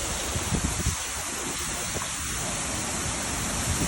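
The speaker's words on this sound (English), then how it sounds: "There's a lot of rain." Heavy rain pours down during an evening thunderstorm, a dense, even roar of water drumming on surfaces that continues without pause and with no voices heard.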